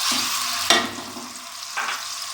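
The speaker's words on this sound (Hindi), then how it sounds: "ये गर्म होता है तो फिर हम लहसुन अदरक डालेंगे। लहसुन अदरक का पेस्ट डाल रहे हैं।" Garlic ginger paste fries in hot oil for a quick biryani, crackling and sizzling close up while a spoon stirs it in a couple of sharp scraping bursts.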